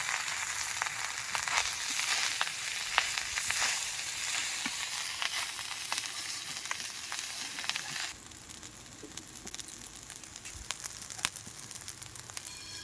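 Cooked rice tossed into a hot pan with beans, capsicum and raisins for fried rice sizzles and fries steadily, with scraping and stirring clicks throughout and a slightly quieter stretch near the end.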